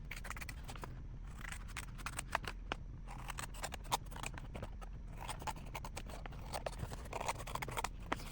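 Scissors cutting through a cardboard tissue box, a run of close, crisp snips and rustling card scrapes in an uneven rhythm.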